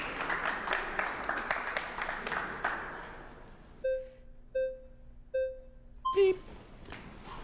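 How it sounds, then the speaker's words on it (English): Three evenly spaced electronic beeps sound clearly after a noisy stretch of broadband chatter-like sound, followed by a short warbling tone. "Beep."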